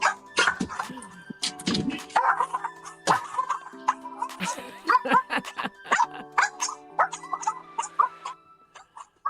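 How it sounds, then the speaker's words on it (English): Three pet dogs bark repeatedly in scattered, irregular bursts, with yips and whimpers mixed in, fairly close and moderately loud in an indoor room. "My 3 pet dogs have an amazing trick of no matter how many years they've known you, they will still bark at you all day long."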